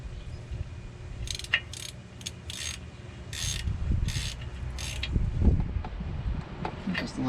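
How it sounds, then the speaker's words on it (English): Ratchet with a 24mm socket turning the bolts of a Banks rear differential cover on a Duramax 2500HD, giving several short raspy ratcheting bursts close by over low background rumble. "Uses a 24mm socket."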